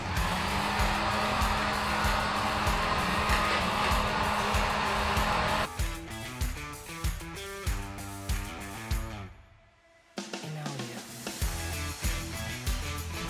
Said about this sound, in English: I'm gonna use a heat gun and a scraper to take off these old Seadoo stickers.